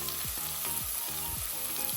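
Onions frying in hot coconut oil in a pan, giving a steady, close hiss and crackle with no one talking.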